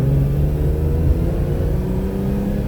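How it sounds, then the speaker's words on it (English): A 1982 Ferrari 400i V12 with a five-speed manual hums and growls steadily, a smooth sustained tone with a deep rumble underneath, heard from inside the car. "has that Ferrari pitch, that sound"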